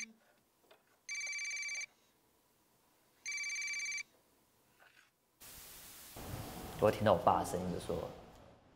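Telephone ringing in two evenly spaced electronic bursts, each roughly a second long, with a short pause between them, followed by a static-laden phone line picking up and a voice answering.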